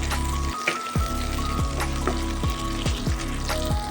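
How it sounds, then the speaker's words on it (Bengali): Chopped onions frying in a pan over medium heat, a close, steady sizzle punctuated by sharp clicks and pops of a utensil stirring against the pan. "পেঁয়াজটা একটু ভালোভাবে ভেজে নেব"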